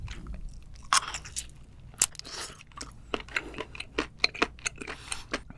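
Close, crisp chewing of octopus tentacle during a seafood mukbang, with irregular wet crunches and soft bites repeating steadily over several seconds, no talking.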